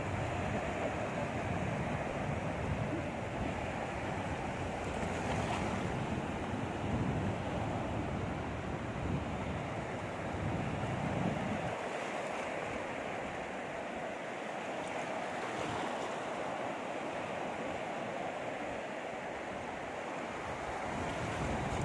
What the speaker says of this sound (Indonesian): Karena ombaknya ngamuk